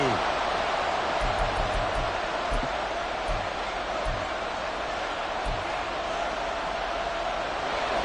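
Steady stadium crowd roar in a football game against the Dolphins on a late third down, a dense, constant wash of noise with a commentator talking over it.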